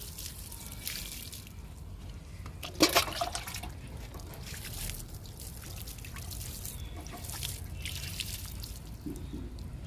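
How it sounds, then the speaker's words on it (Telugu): Water poured over a verbena plant in a tub filled with grass clippings, kitchen waste and soil, a soft continuous trickle and dripping with a brief louder splash early on, close by and without speech. "వెర్బెనా మొక్కకి వాటర్ ఇస్తున్నాను."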